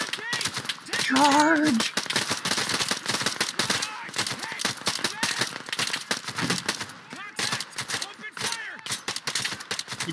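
Rapid bursts of gunfire and machine-gun fire crackle through a chaotic battle in the video game Operation Harsh Doorstop, dense and continuous, with a voice shouting over the shots.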